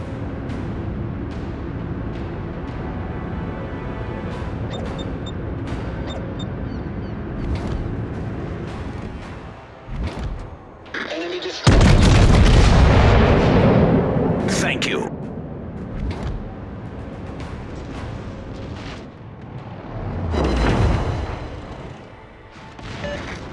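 Battleship main guns fire in the naval game World of Warships, including a big booming salvo around the middle, with game voices and sound effects around it and further rumbling blasts later.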